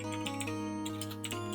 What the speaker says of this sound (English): We can hear you typing.